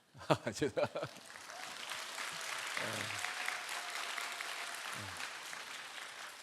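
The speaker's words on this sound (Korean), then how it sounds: "태어나서 이렇게 뜨거운 박수 받기는 또 처음인 것 같아요." Church congregation applauding during a Sunday all-generation worship service, a sustained burst of clapping that swells after a moment of nearby speech and then holds steady, filling the room at a moderate level.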